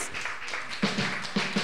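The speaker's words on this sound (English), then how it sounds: "Warm round of applause, please, for Alan." Audience claps for a jazz singer, a loose patter of hand claps with a few sharper, closer claps standing out in a steady rhythm near the end.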